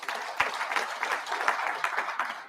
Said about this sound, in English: Join me to clap for our sponsors.